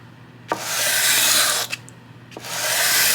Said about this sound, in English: I'm just taking a sanding block and just skimming this.